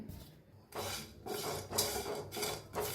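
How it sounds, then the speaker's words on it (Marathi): Masala tea spices roast dry in a small kadhai, stirred with repeated scraping and rasping strokes against the metal in an uneven rhythm, close and moderately quiet with no talking. "एक बारकी कढाई त्याच्यात हे सगळं जे ना भाजून घेऊया आपण एक साथ घालून भाजून घेऊया"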